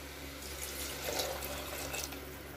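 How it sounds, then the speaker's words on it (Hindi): A cup of water pours steadily into chickpeas (chhole) in a pressure cooker for Punjabi-style chhole bhature, a continuous close splashing flow with no voices. "यहाँ पर हम 1 कप पानी डाल रहे हैं छोला को पकने के लिए"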